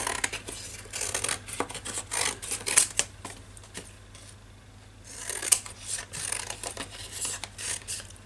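Scissors cutting paper up close, a run of crisp snipping and rustling strokes in uneven bursts with a brief lull midway.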